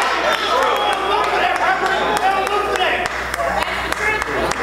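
A church congregation claps in a quick, sharp rhythm throughout, with voices and crowd noise mixed in underneath.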